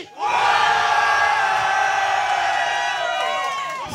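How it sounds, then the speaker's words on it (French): A large crowd at a live gaming tournament roars with cheers and shouts, loud and sustained, swelling at once and holding before easing slightly at the end. "Ceux qui sont pour Stefano, faites du bruit"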